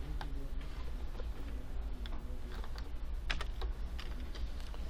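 A computer keyboard is typed on steadily while code is copied and pasted, producing a quick, irregular run of close, crisp key clicks with no talking.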